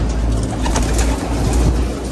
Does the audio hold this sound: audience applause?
no